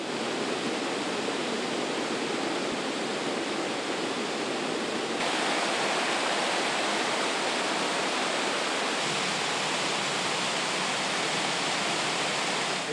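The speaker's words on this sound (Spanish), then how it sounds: "De manera que la cascada cae" A waterfall cascading down a series of rock steps beside gallery forest, heard as a loud, steady, unbroken roar of rushing water with no voices.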